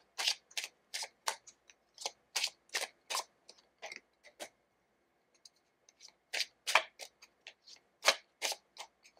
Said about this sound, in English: I have your cards here and I'm just going to shuffle them